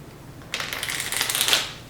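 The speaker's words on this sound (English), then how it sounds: "You are going to shuffle them and mix them up really well." A deck of playing cards shuffled nearby: quiet at first, then a sudden riffle of rapid papery flicks building over about a second and a half, with no talk.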